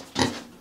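A single pig gives one short, close, fairly loud grunt that fades quickly into quiet background.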